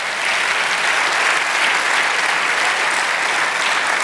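A church congregation applauding during a sermon, steady dense clapping that holds at an even, fairly loud level throughout with no talk over it.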